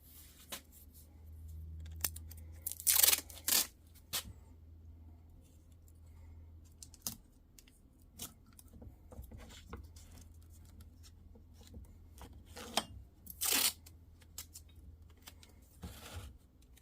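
Tape pulled off a roll and pressed on before mixing Rust-Oleum paint, quiet scattered crackles and clicks with two louder ripping pulls, close and faint overall with no talking.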